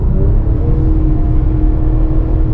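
A Porsche 911 fitted with a Fister exhaust growls steadily from inside the closed cabin as it downshifts, a loud low engine drone that holds without any speech.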